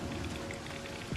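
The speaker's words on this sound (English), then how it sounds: "The raindrops going down the glass." Rain patters on glass in the game Star Citizen, a faint, even hiss of drops with a soft low thud near the end.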